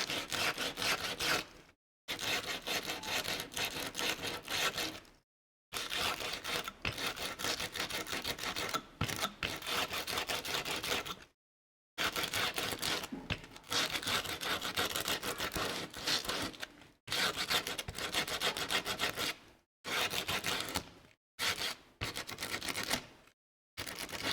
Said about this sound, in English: Let's roughen up some wood and keep making stuff on the wagon.